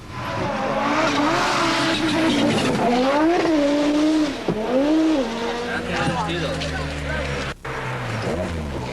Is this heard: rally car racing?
yes